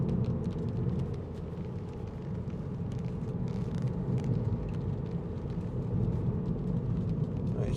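Steady low rumble of a 2015 MINI Cooper SD hatch, three-door with six-speed auto, rolling over a rough, potholed road, with continuous road and engine noise and no voices.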